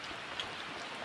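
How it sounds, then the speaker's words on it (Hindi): Heavy rain falls in a steady, fine hiss with a single brief drip standing out, faint and alone. "आज सुबह से बारिश लग रही है तो रुकने का नाम ही नहीं ले रही है बारिश"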